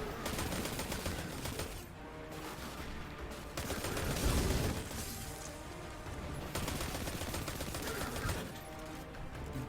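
Dense, continuous gunfire from the Destiny 2 video game, rapid bursts and volleys layered over a busy game soundtrack, loud and sustained for the whole stretch with a heavier boom near the middle.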